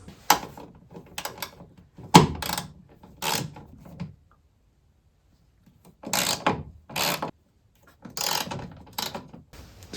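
Bursts of ratcheting clicks from a ratchet wrench loosening the top nuts on a BMW E36 come in short, separated runs with quiet pauses between, close and fairly crisp.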